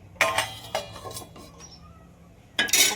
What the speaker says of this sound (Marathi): आता ठेवतो याच्यावर झाकण मस्त गावरान वांग्यावर